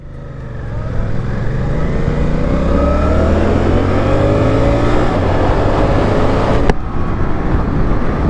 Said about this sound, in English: Let's get out on the actual roadways with this motorcycle.